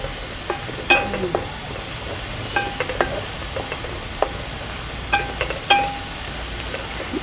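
Eggplant frying in oil for an oil brinjal curry, a constant soft sizzle broken by several sharp metallic clinks and scrapes of a spoon stirring against the pan.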